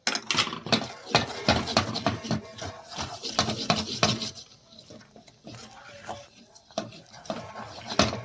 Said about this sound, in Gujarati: હવે આપણે એક વખત તેને મિક્સ કરી લઈએ